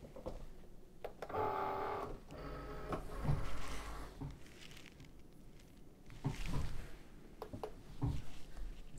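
A vinyl cutting machine loads and cuts reusable mesh stencil material with heat-bond backing, giving bursts of close mechanical whirring and buzzing motor runs separated by short pauses.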